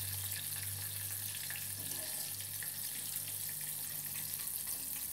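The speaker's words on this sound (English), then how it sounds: "It shouldn't take that long to fry them up." Battered morel mushrooms fry in hot oil, giving a steady close sizzle with a faint low hum beneath it and no talking.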